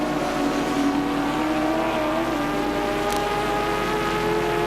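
Onboard Peter Brock's race car at the 1982 James Hardie Bathurst 1000: a steady, loud engine drone with layered harmonic tones that shift slightly in pitch, constant throughout with no voices.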